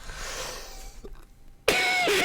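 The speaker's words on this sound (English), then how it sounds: "So yeah, I'm still coughing." A person coughs sharply once, close and loud, after a stretch of quiet room noise, and the harsh burst tails off into a rough throaty rasp.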